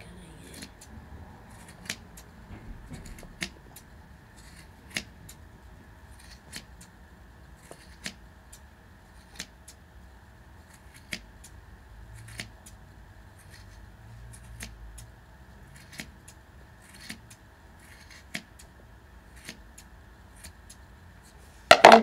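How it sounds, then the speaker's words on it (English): Scissors snip steadily at a yarn pom-pom while it is trimmed even, roughly a dozen crisp, evenly spaced cuts ringing out close and clear over quiet room tone, with a louder clatter at the very end. "you can just cut them with your scissor"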